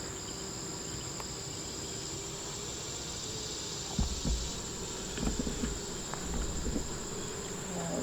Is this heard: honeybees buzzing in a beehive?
yes